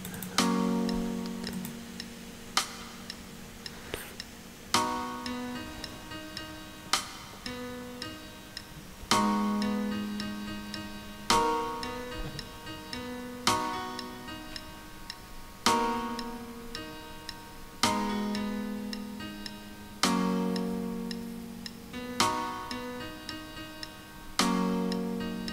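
A MIDI file transcribed by AI from a song plays back as regular, evenly spaced synthetic notes and chords with a steady ticking pulse, quiet and alone without speech.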